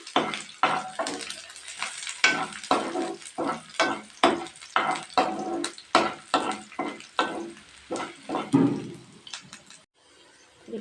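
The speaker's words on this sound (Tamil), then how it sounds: "கருவேப்பிலையை சேர்த்து நல்லா மிக்ஸ் பண்ணிக்கலாங்க" A spoon stirs curry leaves into broad beans frying in a pan, making rhythmic scraping strokes about twice a second over a soft sizzle, close and fairly loud.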